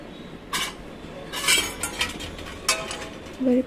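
A spatula scrapes and knocks in a pan of potatoes and bottle gourd greens, giving a few separate metallic clinks and scrapes close by against a low background hum.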